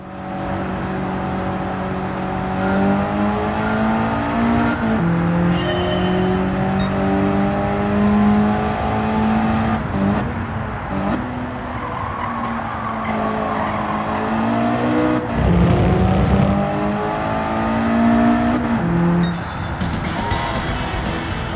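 Race car engine in Gran Turismo 7 on a track, revving continuously with rising and falling pitch through gear shifts, braking and tire squeal, loud and close with no talking.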